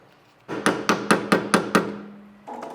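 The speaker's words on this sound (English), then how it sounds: "We're gonna chisel this off." Hammer blows on a chisel knocking out a wheel hub stud on a BMW E30, six quick, evenly spaced metallic strikes up close with a ringing tail, followed by a lighter tap.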